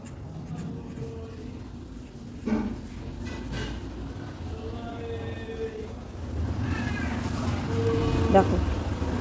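A cat meows a few times at a doorstep outside a house, with short mewing calls spaced through the scene, near and moderately loud over light outdoor background noise and someone talking.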